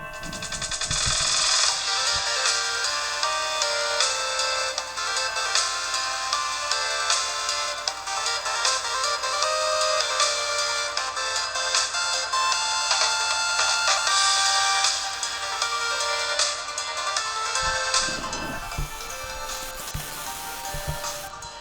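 Sound playing through the built-in speakers of a Lenovo B50-10 laptop, a bright, dense tone-rich stream heard steadily for about eighteen seconds, with the thin, high-pitched character of small laptop speakers, before dropping away near the end.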